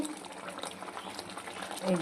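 Boal fish curry simmering in a pan, a steady close bubbling and sizzling that runs throughout while a voice talks over it.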